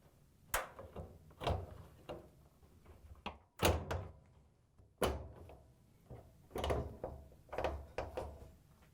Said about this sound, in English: then we can put the bulkhead in place and lock the tabs into the cabinet